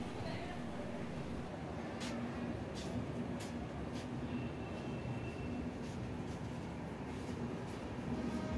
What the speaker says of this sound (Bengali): তো আমাদের ট্রেনও ছেড়ে দিয়েছে, এই যে ধীরে ধীরে স্টেশন থেকে বেরোচ্ছে।